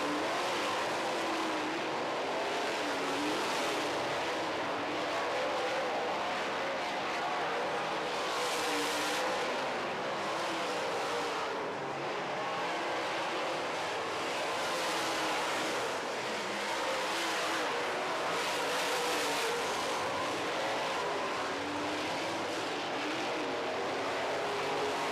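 Late model race cars roar around a dirt track in a feature race, a continuous dense engine drone with waves of rising and falling revs as packs pass, loud and steady throughout.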